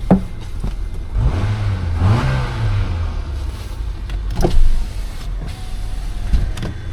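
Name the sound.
car engine revving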